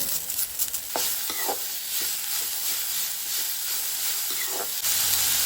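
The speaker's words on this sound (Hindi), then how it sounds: "टमाटर जो है ना हल्का सा मेल्ट होने तक इसमें कुक करेंगे।" Green chilies and tomatoes fry in a pan, giving a loud continuous sizzle and hiss close by, with occasional stirring scrapes and clinks against the pan and no talk.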